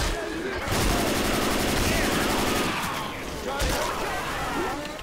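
Sustained gunfire from a group of survivors in the Left 4 Dead 2 video game, loud rapid automatic bursts rattling continuously with dense chaotic game noise and occasional voices underneath.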